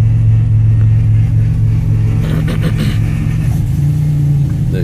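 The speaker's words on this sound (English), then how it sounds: "The exhaust is rattling a little bit" A 1986 T-type car's engine idles loud and close with a steady low rumble, its exhaust rattling, and a short rev swells briefly midway.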